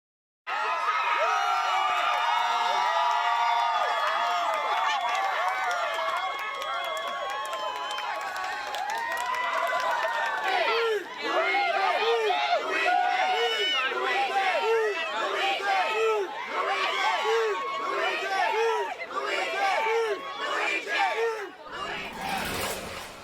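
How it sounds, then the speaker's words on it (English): A crowd of supporters outside a courthouse cheers, shouts and whoops for over twenty seconds, many voices overlapping at close range, loud and sustained before cutting off abruptly. "They are cheering after the New York Appellate Court tossed out state-level terrorism charges"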